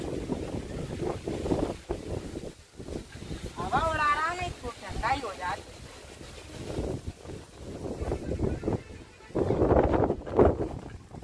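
Strong wind gusts over open water, roaring and buffeting the microphone in uneven surges, with water being whipped up and a person talking through it.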